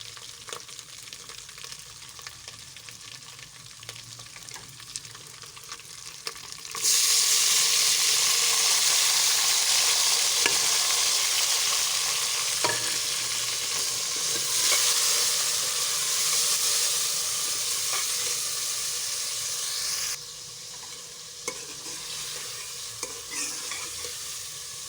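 Tomatoes are added to green chilli and garlic that have browned in hot oil, giving a sudden loud, steady sizzle and hiss in a pan with occasional stirring scrapes that settles slightly quieter near the end.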